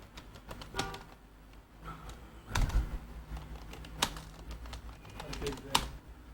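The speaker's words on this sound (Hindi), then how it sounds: "यहाँ डबल क्लिक करता हूँ और यहाँ पर कुछ भी मैं टाइप करता हूँ" Keys clatter on a computer keyboard in quick irregular bursts, close and fairly clear, while someone speaks over the typing during a Microsoft Word tutorial.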